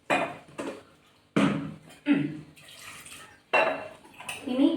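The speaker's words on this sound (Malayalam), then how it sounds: "പാകത്തിന് വെള്ളം ഒഴിക്കുക" Water poured in bursts into a pressure cooker holding chopped tapioca, several splashing pours separated by short pauses, with metallic clatter of the vessel, close and fairly loud.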